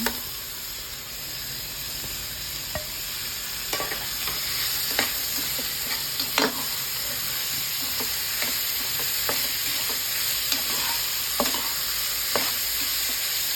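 Chayote pieces fry in a hot pan with a steady close sizzle, broken by repeated clicks and scrapes of stirring throughout, with no voices.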